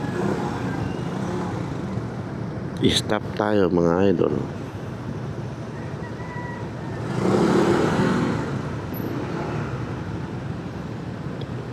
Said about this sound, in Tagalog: Tapos ganito yung sitwasyon ng traffic.